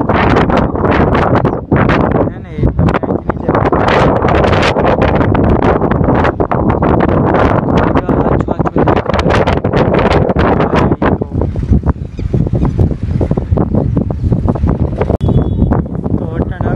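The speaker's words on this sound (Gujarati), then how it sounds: "પવન ચાલુ થઈ ગયો હતી" Strong wind blowing outdoors, roaring and buffeting a nearby microphone in loud, continuous gusts with brief dips, with a voice faintly mixed in.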